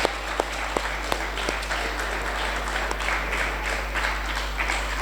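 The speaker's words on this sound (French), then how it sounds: "on va applaudir très fort pour la petite sœur" An audience at a French pleading competition applauds steadily for several seconds, a dense even patter with a few sharper individual claps standing out, over a low constant hum.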